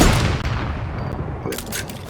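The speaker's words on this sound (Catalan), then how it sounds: "Tot i que està disparant algú. És que està disparant a tot arreu." Gunfire in Fortnite during a match, a dense, rumbling wash of shots from around the map, fairly loud and continuous, with a few brighter cracks near the end.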